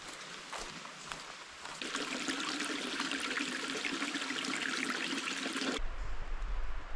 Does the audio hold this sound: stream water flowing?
yes